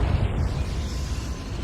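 Confringo blasting spell explosion in the Hogwarts Legacy video game, a loud, close burst at the start that settles into a sustained rumbling roar.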